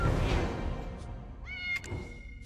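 A cat meows in the online role-playing game Black Desert Online, giving a single clear, tonal meow that rises and falls after a moment of rumbling game ambience, fairly close and alone.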